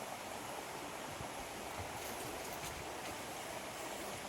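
Steady broadband rush of a flowing river, continuous and even, with no voices or other distinct sounds over it.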